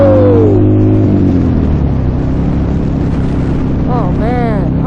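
The exhaust pipes of a Buell Lightning XB12S naked motorcycle roar loudly and continuously up close on a winter morning ride, the pitch sweeping down as the revs drop, with brief whistling tones near the end.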